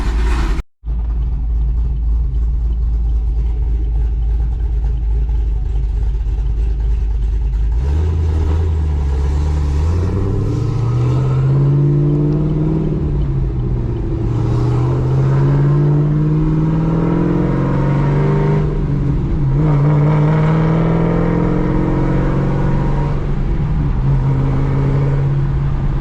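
A cammed Chevrolet Camaro's engine rumbles, then revs up and climbs through the gears while driving, loud and close, with rising and falling engine pitch.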